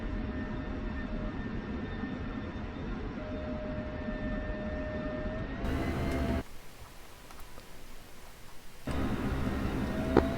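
An F-16 taxis on a runway in a flight simulator game, its engine a steady, loud droning whine with tonal layers that briefly gives way to a thinner, quieter hiss before the drone returns.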